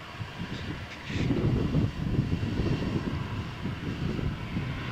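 Airbus A320-232 jet of British Airways Euroflyer at Malaga Airport on a stormy morning, a steady loud engine roar with a rumbling low swell that builds and holds throughout, no voices.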